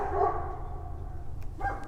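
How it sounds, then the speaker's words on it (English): Dogs barking in a backyard in winter, a few muffled barks at moderate distance over a low steady background rumble, with no talk. "Stupid loud dogs that think that I am a bad guy or something"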